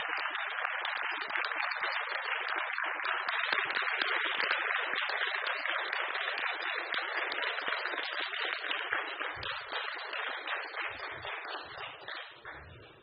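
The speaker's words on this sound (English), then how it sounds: "So please, give them a huge round of applause." A graduation ceremony audience in a hall gives a long, sustained round of applause, a dense crowd of clapping hands holding steady for the whole stretch and thinning slightly near the end.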